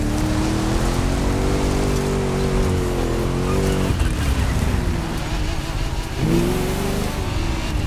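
A Mitsubishi Lancer Evolution engine revs loudly and close, its pitch climbing and dropping in a few surges over a constant broadband rush.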